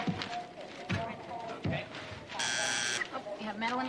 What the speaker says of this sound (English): It's a metal detector.